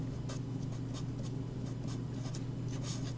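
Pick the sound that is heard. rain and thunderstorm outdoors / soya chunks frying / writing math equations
writing math equations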